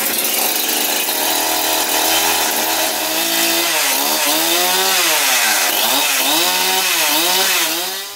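A Husqvarna 372 XP chainsaw runs loud and close, first holding a steady idle-like drone, then revving up and down in repeated swells of engine pitch.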